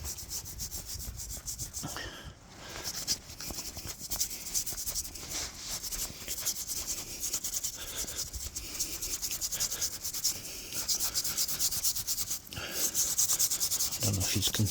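A 17th-century gravestone being scrubbed, giving a steady, close, continuous rasping brush-on-stone sound with brief pauses near the start and toward the end, no talk over it.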